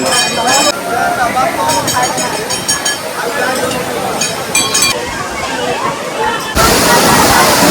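The Tutla Bhawani waterfall drops about 200 feet near Sasaram, Rohtas, producing a loud, constant roaring wash of water close by, with splashes and voices of people talking mixed underneath.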